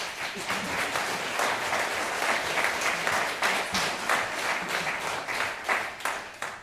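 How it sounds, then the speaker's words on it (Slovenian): Concert audience at a choir gathering applauding, a full, even wash of clapping from many hands that continues throughout without any speech. "aplavz."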